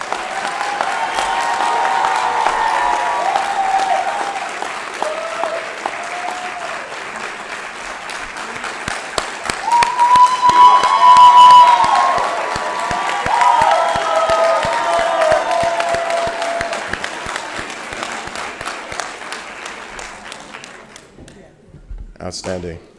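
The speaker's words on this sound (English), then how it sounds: "So can we give the students one more round of applause" Sustained audience applause fills a white coat ceremony hall for medical students at Meharry Medical College, swelling mid-way and tapering off near the end, with some talk mixed in.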